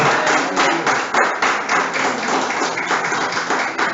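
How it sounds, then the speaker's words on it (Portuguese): Congregation clapping in a church service, a crowd of hands striking in loose rhythmic bursts, loud and close with a pulsing beat and no voices over it. "aplauda ao Senhor, querido, aleluia"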